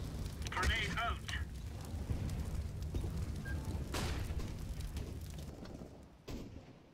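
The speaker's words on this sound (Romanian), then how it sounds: "Throwing a grenade. Incendiary." An incendiary grenade in the shooter CS:GO bursts into a dense, crackling roar of fire, with thuds and a brief voice early on, the burning hiss holding steady for several seconds before a final thump.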